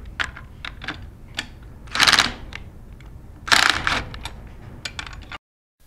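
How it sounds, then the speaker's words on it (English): A 3/8 inch impact gun rattles in two short bursts as it removes the discharge manifold bolts of a Sandpiper pump, between scattered metallic clicks and handling noises of tools and parts. "we're going to use a 3/8 inch impact gun"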